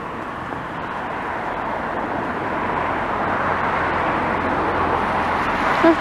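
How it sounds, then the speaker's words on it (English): One car approaches along an almost deserted street on a quiet Sunday morning, its steady road rumble and hiss rising gradually over a soft outdoor hush with no voices. "I hear one car coming."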